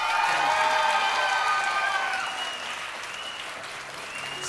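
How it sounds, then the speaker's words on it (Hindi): A studio audience at a Ramazan game show claps steadily and loudly at first, then the clapping eases to a softer, sustained level with a few faint cheers mixed in. "जो सबसे ज्यादा तालियां बजाएगा।"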